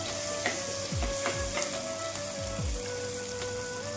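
Tomatoes sizzle and crackle as they sauté in a pan for a fish curry, with a dense continuous frying hiss and a few soft stirring knocks, close up with no talking.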